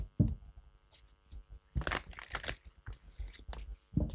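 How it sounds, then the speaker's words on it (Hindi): Tarot card decks being shuffled, a series of close, crisp riffling and flicking bursts separated by short pauses, quiet and alone with no talk. "दोनों को ही मैं शफल करने वाली हूँ।"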